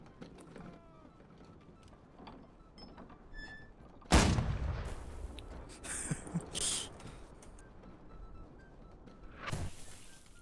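A sudden loud boom of cannon fire in a video game, followed by rumbling and scattered crackling blasts that fade, then another burst near the end, over faint background game sounds.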